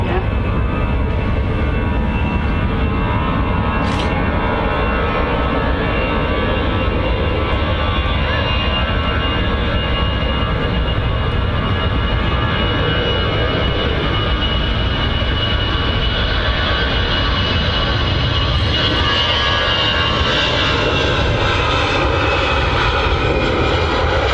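Jet airliner engines at Manchester Airport roar loud and continuous for the whole stretch, a broad, dense rumble that swells slightly over time and drowns out any other sound.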